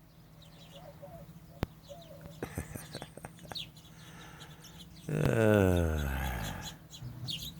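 Desert birds chirp faintly in short, scattered calls around a fruiting saguaro cactus, and a voice comes in loudly near the end.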